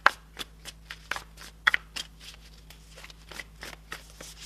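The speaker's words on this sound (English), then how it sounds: "Let's give it a few more shuffles" Tarot cards are riffled and shuffled in quick, irregular bursts of crisp slapping and flicking, close up, with no voices.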